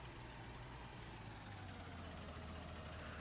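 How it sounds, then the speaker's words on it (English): A Fendt tractor engine idles in the video game Farming Simulator 19, giving a steady low droning rumble that holds without change for the short stretch. "It's got an interesting sound, this tractor."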